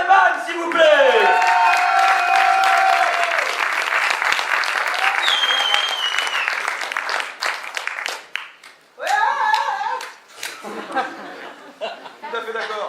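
Audience at a poetry slam in Reims bursting into loud applause and cheering for a performer, dense clapping with whoops and some laughter, fading into scattered claps as a voice speaks over the end.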